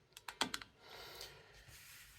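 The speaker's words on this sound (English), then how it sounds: "You'll definitely be using your keyboard" A few quick keystrokes on a computer keyboard for a Raspberry Pi setup, close and faint, followed by soft room noise.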